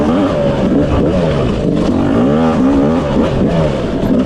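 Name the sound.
Yamaha YZ250 dirt bike engine revving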